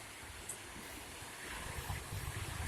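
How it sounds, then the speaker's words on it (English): Ocean surf at high tide on a south-facing shore, a faint broad wash of breaking waves mixed with wind buffeting the microphone. "Pretty good surf out today"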